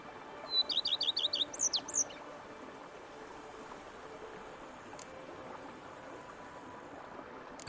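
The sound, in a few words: birds chirping in The Witcher 3 video game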